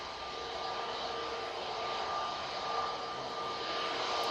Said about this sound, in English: we're going to have the Virgin Atlantic A350 1000 coming out, and also the mighty Emirates A380